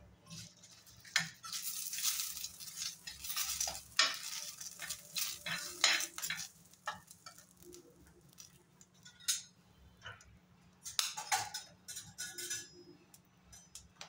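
Nigella seeds dry-roasting in a pan without oil while a spoon stirs them, giving repeated scraping and clinking strokes over a faint low hum, with no talking.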